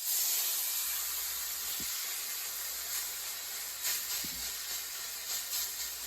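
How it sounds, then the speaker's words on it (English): Pot roast searing in a hot pan, a steady bright sizzle and hiss that runs unbroken throughout, close and fairly loud, with a few faint knocks underneath. "You want to hear that sear"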